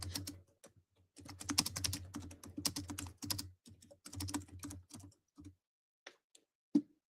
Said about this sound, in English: My typing sucks today.